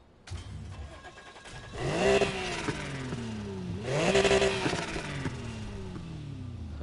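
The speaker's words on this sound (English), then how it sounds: "That's a pretty cool engine." A car engine in Need for Speed Heat revs up twice, rising in pitch with each surge, over a steady idle hum; loud and close with a synthetic game-like quality.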